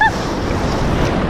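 Ocean surf at Punta Uva beach in Limón, Costa Rica, a steady loud wash of breaking waves with wind buffeting the microphone throughout, no voices.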